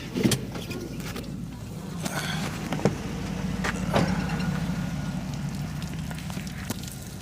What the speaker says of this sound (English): Gotta get that truck moved away from parking area so nobody gets in trouble.